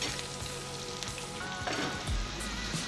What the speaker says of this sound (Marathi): मिरची देखील तेलात चांगली परतून घ्यायची आहे